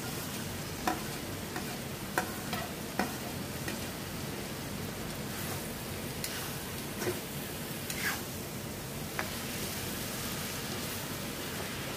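Okra stirred and fried in a pan of spiced oil with chopped onion: a steady, close sizzle with sharp scraping clicks of the spoon at irregular moments throughout.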